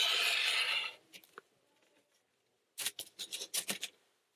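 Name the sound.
cutting fabric between stitching lines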